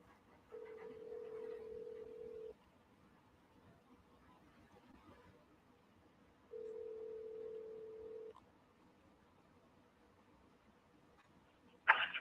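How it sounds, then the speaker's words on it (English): Telephone ringback tone on an outgoing call placed during a baseball postgame broadcast: two long, steady buzzing rings about four seconds apart, fairly faint, with no talking over them. "Can you hear the phone ringing?"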